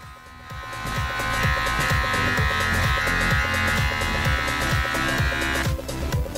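Electric hair clipper fitted with a 1/2 clip guard cutting hair during a home haircut, a steady loud motor buzz with rhythmic pulsing strokes running throughout, briefly dipping near the end.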